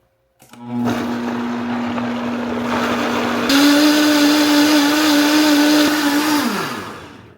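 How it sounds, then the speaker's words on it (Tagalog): A loud kitchen blender starts abruptly and runs with a steady motor whine, then jumps to a higher, louder speed partway through before spinning down at the end. "Oh, the blender's awesome."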